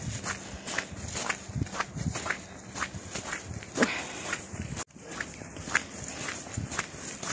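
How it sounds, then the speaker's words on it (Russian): Quick footsteps crunch along a snowy road just after a snowstorm, a steady close rhythm of brisk steps with faint breeze in the background. "Стараюсь идти быстрым шагом."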